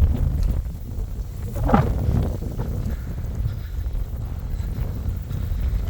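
Strong wind blows steadily and without pause outdoors at an apiary, a continuous low rumble of gusts buffeting the microphone throughout.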